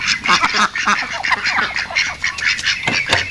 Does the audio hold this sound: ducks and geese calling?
yes